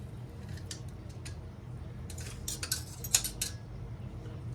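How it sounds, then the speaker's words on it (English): Metal tongs clink and scrape against a pan while handling shredded raccoon meat, a scattered series of light, close metallic ticks over a low background hum, with no talk. "Tongs don't want to work out right."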